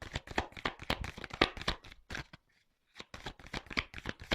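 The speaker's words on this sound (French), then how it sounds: "Oh là là, j'ai trop de cartes qui sautent." Tarot cards being shuffled by hand, close and crisp, in dense rapid riffling bursts that stop for about a second before the shuffling starts again.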